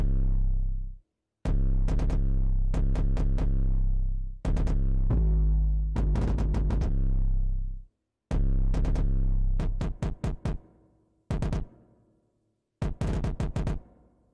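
Hard-hitting trap beat built on heavily distorted kicks panned to the sides and a booming 808 bass, played loud in bursts with short gaps and stops between phrases.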